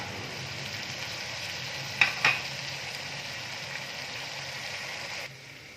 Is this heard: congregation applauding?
no